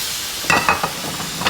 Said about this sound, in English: This is where we put our sauce in.